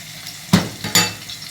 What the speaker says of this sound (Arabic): بقللها توم كمان اهي، معلقه سمنه بلدي